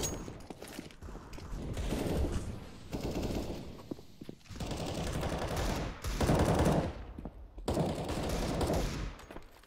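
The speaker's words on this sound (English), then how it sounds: "Angel finds the opening frag on Freddy B" Dense automatic rifle fire from a professional CS:GO esports match, sustained rattling bursts with brief gaps, loud and continuous without talk.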